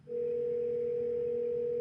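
A telephone tone during an outgoing call, one steady, clean electronic beep held for nearly two seconds, close and alone.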